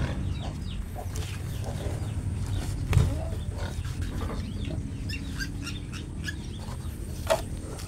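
Pregnant pigs on a farm being fed rice bran, with grunts and snorts from several animals over a steady low farmyard hum, a louder thump near the middle, and chicken clucks mixed in.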